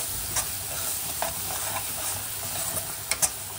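Barnyard millet is stirred into a ground green paste in a pan for a fasting dish, making soft continuous scraping and a faint sizzle with occasional sharp clicks of the spoon, close up with no voices.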